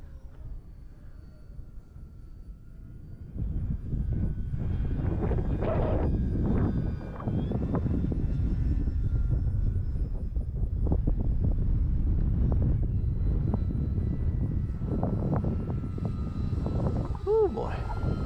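An RC Tecnam model airplane drones overhead outdoors on a windy day, its engine buzzing steadily at moderate distance for a long stretch while gusts rumble across the microphone.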